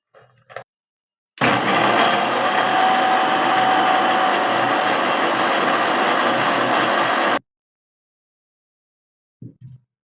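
A kitchen mixer grinding chocolate biscuits runs in one loud, steady whirring burst of about six seconds, close up, with silence and a few faint knocks before and after.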